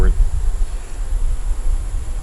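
Bees at a hive that lost its queen, a steady dense buzz of many insects close to the microphone, loud and continuous with no voices.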